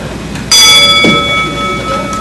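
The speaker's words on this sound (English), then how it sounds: "let's ring a bell" A single bell struck to open a service club meeting, one bright clang at the start that rings on with a long, steady fading tone across the room.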